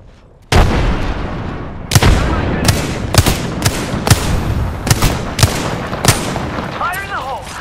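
In Apex Legends, combat erupts after a frag grenade throw: a sudden loud blast is followed by a rapid series of sharp booming bursts, with a voice calling out near the end.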